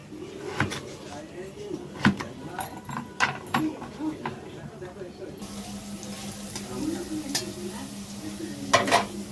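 Potatoes frying in a pan in a home kitchen while being stirred, with a steady sizzle under repeated scraping and clattering strokes of a utensil, and a voice speaking faintly in the background.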